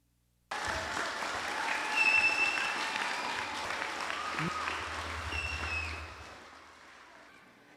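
Crowd applause for a canoe race finisher at the 2009 Yap Canoe Festival, steady outdoor clapping that starts abruptly, holds for about five seconds, then fades, with some voices mixed in.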